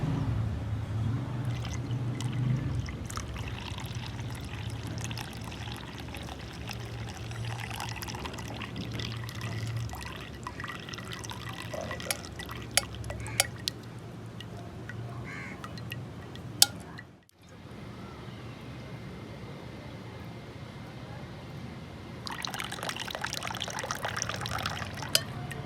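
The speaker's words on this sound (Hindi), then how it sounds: "ये पत्ती को मैं तीसरी मरतबा पानी डाल रहे हैं" Water poured from a container over an eye pad to rinse it, a steady soft trickling and dribbling that runs for most of the stretch, briefly cutting out partway before resuming.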